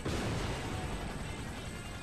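A loud, sustained video-game missile explosion roar fills the whole moment, a dense rumbling blast with no voices over it.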